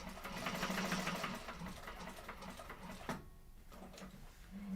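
A sewing machine runs a line of reinforcing stitches over a connector on a Wayfarer sling bag, a steady mechanical whir and rapid needle chatter that holds for about three seconds, then drops away before resuming.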